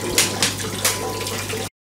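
Water pours steadily into a new aquarium tank, a loud continuous rushing fill with a low hum beneath, cutting off abruptly near the end.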